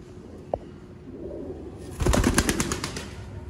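Pigeons in a loft coo softly, then a louder burst of rapid rhythmic cooing and fluttering rises near the end, close by with a faint background hum and no speech.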